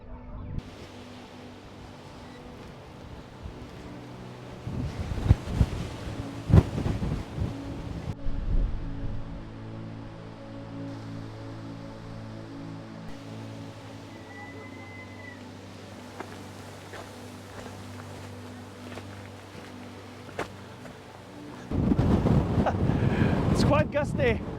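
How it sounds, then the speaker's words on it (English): A gale-force west wind blows across the coastal cliffs of Gullholmen on Sweden's west coast, roaring and buffeting the microphone in uneven gusts, with a few harder blasts early on and a loud, sustained surge near the end. "take a look at the gale blowing now from west"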